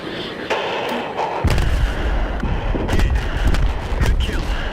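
Bombs exploding in Dune Awakening. After a quieter opening second, a heavy, rumbling barrage of booms rolls on continuously and loudly.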